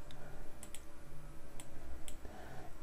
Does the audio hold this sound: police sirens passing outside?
no